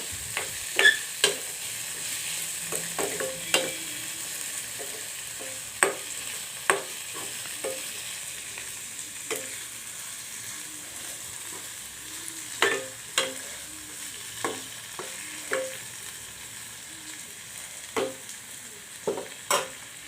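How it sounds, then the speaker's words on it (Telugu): A spoon stirs a potato, brinjal, tomato and green peas curry in a pan, giving regular scraping knocks over a soft continuous sizzle, steady and close with no talking. "వీటిని బాగా కలుపుకుంటున్నాను ఇవి కాస్త మగ్గనివ్వాలి"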